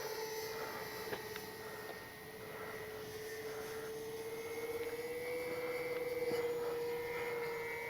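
An Avios Twin Otter radio-controlled model plane flies at full speed into the wind, a steady high electric motor whine holding a near-constant pitch, fairly faint and slowly swelling toward the end.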